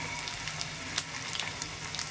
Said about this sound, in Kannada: ಗೋಡಂಬಿ ಫ್ರೈ ಆಗುತ್ತೆ, ಕರಿಬೇವಿನ ಸೊಪ್ಪು ಒಣಮೆಣಸಿನ್ಕಾಯಿ ಹಾಕ್ಕೊಳ್ಳೋಣ.